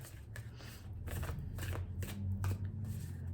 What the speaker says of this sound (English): I'm just going to stop shuffling.